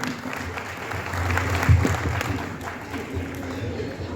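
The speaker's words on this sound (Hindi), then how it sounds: "थोड़ा तालियां बजाते रहे, बच्चों का हौसला अफजाई करें।" Audience applause after a children's play about Savitribai Phule, a soft, fairly distant patter of clapping with a voice talking over it.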